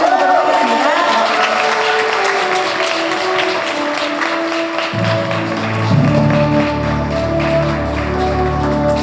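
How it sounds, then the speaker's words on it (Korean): Audience applause at an award ceremony for an English writing contest at an academy event: a sustained, steady wash of clapping fills the room, with music joining partway through. "큰 박수 부탁드리도록 하겠습니다"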